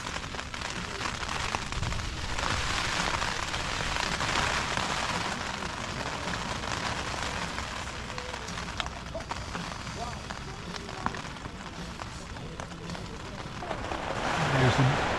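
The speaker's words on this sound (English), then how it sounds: "There's some serious rain hitting this tent now." Heavy rain drums steadily on a tent in Snowdonia, a constant dense hiss that swells slightly near the end.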